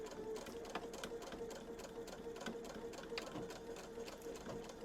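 A sewing machine stitches a patchwork pouch seam with back stitching, a steady fast mechanical whir with rapid needle clatter, close and continuous without talk.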